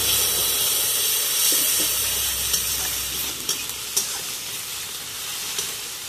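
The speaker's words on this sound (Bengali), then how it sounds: "এবার আমি দিয়ে দেব পেঁয়াজ বাটা।" Onion paste fries in a pan with a loud, steady sizzle and hiss, close up, broken by a few light stirring taps. Nobody speaks.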